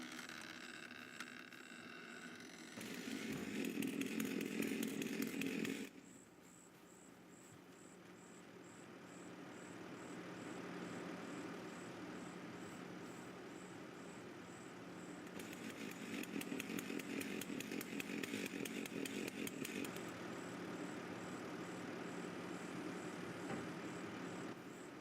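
A chainsaw in the farming video game Farming Simulator 25 drones steadily in bursts, its engine revving higher for a few seconds, dropping back, then rising again into a long sustained buzz.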